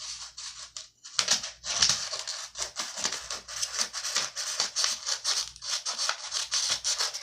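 Scissors cut a folded chalk holder in half while making cascarilla chalk, giving a close run of crisp snips with rustling and scraping between the cuts.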